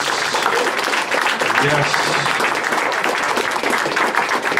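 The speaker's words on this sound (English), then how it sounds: "How about a round of applause for the Swedish Skeptics for organizing this whole thing, please?" Audience applause at a skeptics event in Stockholm, a broad crowd clapping loudly and continuously while someone speaks briefly over the noise.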